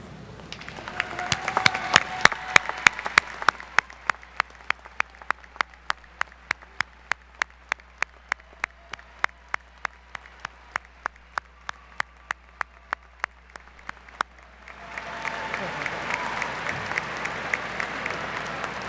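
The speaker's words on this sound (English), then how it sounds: "would you please stand now and accept our applause and appreciation for your contributions?" Applause from a university commencement audience: a burst of clapping at the start, then steady rhythmic group clapping for several seconds, swelling again into fuller applause near the end; no talking over it.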